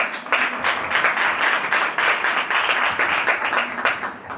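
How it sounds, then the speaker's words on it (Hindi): A Friday worship congregation claps loudly and steadily for a while, the dense clapping staying even with slight swells. "उसके जलाल के लिए ज़ोरदार ताली बजा दीजिए"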